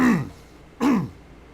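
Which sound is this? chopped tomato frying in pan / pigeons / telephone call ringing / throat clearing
throat clearing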